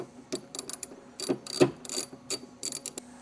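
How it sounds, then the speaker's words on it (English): A spanner tool tightens a Krawler suspension joint with a series of quick, sharp metallic ratcheting clicks in irregular bursts, close and fairly quiet, with no talking. "Use spanner tool, engage it in the teeth, and we're just going to tighten it down a little bit"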